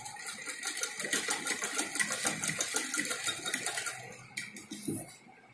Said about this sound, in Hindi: अब हमें इसको बीच में ऐसे करके और बीच में इसके सिलाई लगानी है